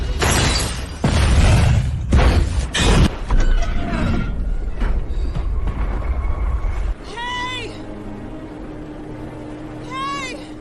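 Heavy booms and crashing blasts from a ship exploding and burning in a film rumble loudly through the first several seconds, then die down to quieter debris sounds while a voice speaks intermittently.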